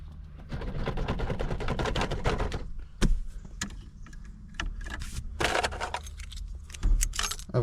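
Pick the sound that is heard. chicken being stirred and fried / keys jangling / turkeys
keys jangling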